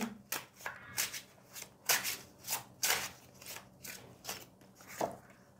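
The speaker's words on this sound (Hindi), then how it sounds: "okay, so we have lots of cards और we have to shuffle again" Tarot cards being shuffled by hand, a steady run of soft riffling and slapping bursts, close and fairly quiet, with no voices.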